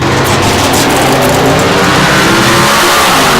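Classic car and hot rod engines roar loud and close, a thick continuous rumble with revving that stays strong and steady throughout, no talk.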